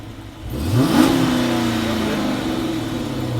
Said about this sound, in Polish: Dźwięk dość charakterystyczny dla V8 Chemii.